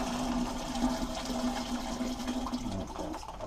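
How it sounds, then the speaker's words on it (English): Warm water, about two liters, poured into a sap wine mixture: a continuous rushing, gurgling pour heard close and alone, steady for several seconds before tapering off near the end. "I'm going to go fill it with about 2 liters of warm water, and we're just going to pour that in"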